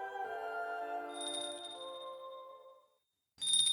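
A bell in the video game Utawarerumono: Mask of Truth rings out clear and bright, its shimmering tone swelling and then fading away to near silence, before a short burst of a brighter, higher chime cuts in at the end.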